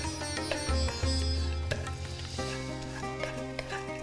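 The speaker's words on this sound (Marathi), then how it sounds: "तूप टाकल्यानंतर 1 मिनिटभर भाजून घ्यायचे आहेत." Saptadhanya grains roasting in ghee in a kadhai, giving a close sizzle with scraping stirs and light tapping. A low hum sits underneath, and no one talks.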